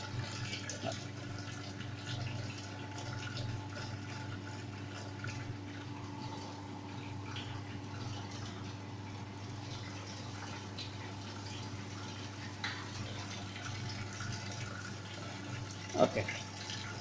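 Steady water flowing through the pipes of a valve-controlled Bernoulli apparatus in a lab, a constant low rushing hum with a brief clunk near the end.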